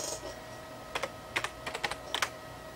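Typing a file name on a computer keyboard: a short run of about a dozen crisp key clicks in small irregular clusters, close and fairly quiet over a steady low room hum.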